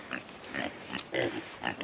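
A pig on a homestead farm being moved in a vehicle grunts and oinks in several short bursts across the moment, fairly close, with no talk over it.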